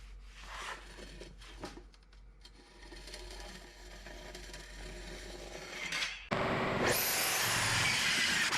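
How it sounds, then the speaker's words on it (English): A CNC machine roughly cutting a piece of elm wood to size, a continuous rasping, grinding drone that jumps to a brighter, louder whine near the end, close and alone. "I decided to just roughly cut this to the size I needed on the CNC."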